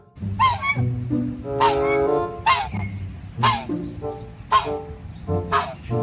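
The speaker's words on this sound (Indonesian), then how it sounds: "ini seekor angsa" A goose honks in a series of loud, nasal calls, about six bursts spaced roughly a second apart, close and clear with no talking.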